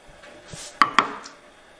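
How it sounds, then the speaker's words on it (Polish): Two sharp knife taps on a cutting board as zucchini is sliced into strips, the second following quickly after the first, close and fairly crisp in a quiet kitchen. "Cukinię kroję w takie paski."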